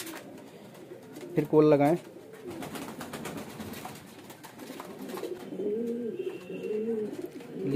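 Pigeons give soft, throaty coos close by, with one louder burst standing out, while someone talks in Hindi over the birds throughout.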